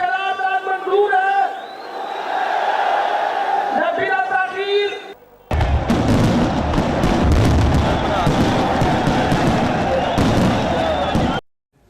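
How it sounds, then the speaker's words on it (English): Fireworks burst above a political rally stage in Pakistan, a dense, loud crackle of explosions mixed with a roaring crowd, preceded by rhythmic chanting voices. "above them was a fireworks display"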